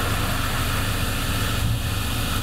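A gasoline direct injection car engine idles in a workshop setting, giving a continuous, even, noisy running sound with a low rumble throughout.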